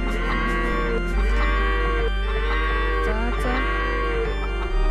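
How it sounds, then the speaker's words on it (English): Cattle mooing in the video game Age of Empires 2 on a Genghis Khan campaign level in China, repeated overlapping moos over a loud, constant game soundtrack. "Lots of cows mooing today."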